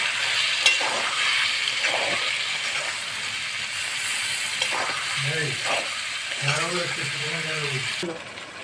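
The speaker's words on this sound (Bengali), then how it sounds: "পেঁয়াজ দিব দিয়ে মশলাটাকে এবার কষিয়ে নেব" Spice paste with onion and green chili paste frying in oil for a Bengali katla fish curry makes a continuous sizzle with stirring scrapes, and a voice speaks briefly over it near the end.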